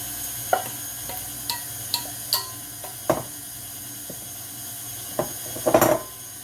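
Cake batter with cocoa powder being mixed, a series of spaced clicks and light knocks as the mixer or utensil works the bowl, ending in a brief cluster of clatter.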